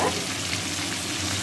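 A dense, even sizzle and hiss of chicken frying in a pan for chicken curry, close and continuous for a brief moment.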